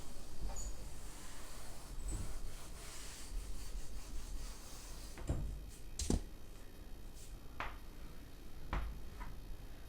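Rubbing and wiping against a board, a steady scratchy friction over most of the stretch, with a few sharper knocks and taps near the end, close by and moderately loud, no talking.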